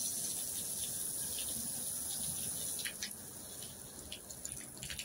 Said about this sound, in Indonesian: Mau nanam sayur kita siram, sudah menanam sayur kita siram.